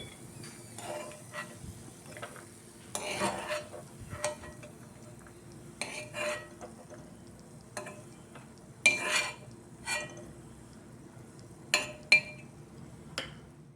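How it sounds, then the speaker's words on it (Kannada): Dry coconut fries in ghee while a spoon stirs and scrapes it around the pan. The scraping strokes come in irregular bursts over a soft, steady sizzle, with no talking. "ನಂತರ ಅದೇ ತುಪ್ಪದಲ್ಲಿ ಈ ಒಣ ಕೊಬ್ಬರಿಯನ್ನು ಸ್ವಲ್ಪ ಹುರಿದಿಟ್ಕೊಳ್ಳಿ"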